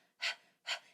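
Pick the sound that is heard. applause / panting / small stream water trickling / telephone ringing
panting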